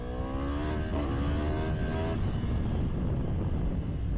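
A 2022 Yamaha R1M motorcycle with an Akrapovic exhaust accelerates hard, its rising engine note climbing through about two seconds, then giving way to rushing wind and road noise.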